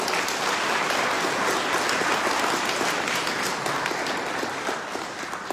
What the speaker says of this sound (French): Et enfin, je voudrais féliciter la chorale Saint-Denis. On peut les applaudir.